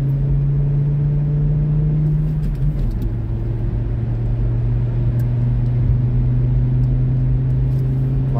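A car runs past the pits on a race track, a steady close engine drone with a slight pitch change partway, loud and continuous with no voices.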